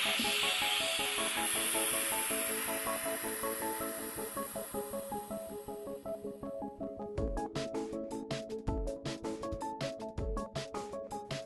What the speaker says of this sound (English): So now we're going to let the air back in the vacuum chamber.